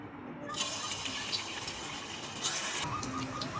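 Small bonda pieces are dropped into hot oil in a kadai and fry with a steady, close, bright sizzle and crackle that swells shortly after the start and holds throughout, with no speech.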